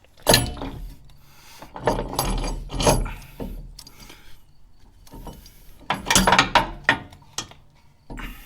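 A ratchet wrench works loose a sway bar link bolt on a 2023 Chevy Colorado ZR2, with bursts of rapid clicking separated by short pauses, close and fairly loud.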